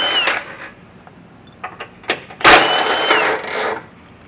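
A socket ratchet loosening the 16mm bolts that hold a tow hook to a 2023 Jeep's bumper beam gives scattered clicks and metallic clatter, then a louder burst of mechanical rattling near the end.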